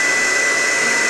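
A hot air curler blows steadily at close range, a loud, continuous whooshing airflow with a faint high whine and no talk.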